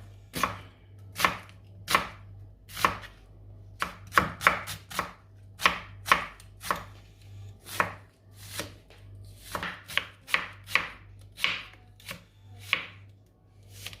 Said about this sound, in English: There goes our onion. Just cut it in thin slices like that.